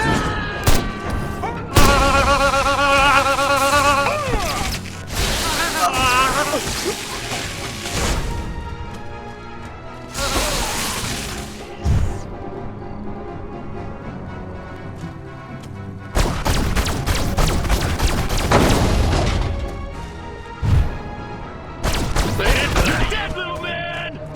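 Gunfire erupts around a tower under attack in the game Destroy All Humans!, with bursts of shots and crashing impacts over busy game music and intermittent speech.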